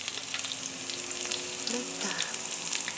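Gotu kola leaf fritters coated in flour batter fry in hot oil, a close, continuous crackling sizzle with light stirring clicks.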